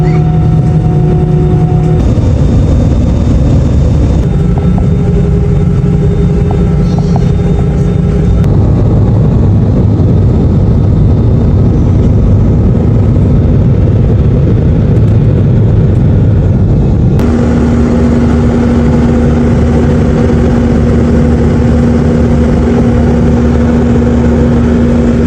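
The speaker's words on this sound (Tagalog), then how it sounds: "Bandang 8:50 naman ng gabi, nag-take off na nga yung eroplano." Passenger airplane taking off at night on a flight bound for Cebu, a loud, steady engine roar with droning hums that shift pitch partway through, and no talking.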